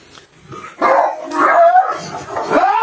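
Kangal dogs bark and yip in short, excited bursts close by at feeding time, several overlapping calls with a whiny edge.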